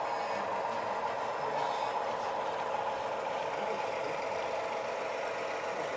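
An HO scale model railroad with Alco diesel engines runs on a layout, a steady, moderately loud motor hum and rolling drone that continues evenly without pause.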